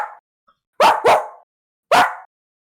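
A person imitates a dog with their voice, giving two quick loud barks in a row, then a pause and a third bark, close and clear against silence.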